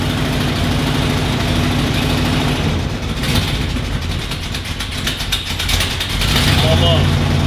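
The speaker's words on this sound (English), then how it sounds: "I'll let it idle a little bit with my foot on the throttle" An old Ford motorhome engine idles steadily with a low, rough rumble, held with the throttle partly open, while a person talks over it.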